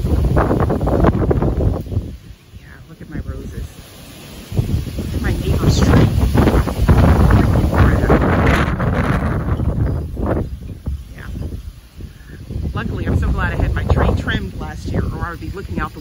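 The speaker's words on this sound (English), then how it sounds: "I'm sure you can hear the wind." Strong wind gusts through a garden, roaring and buffeting the microphone in waves that swell and ease, with rustling throughout and a person talking over it in places.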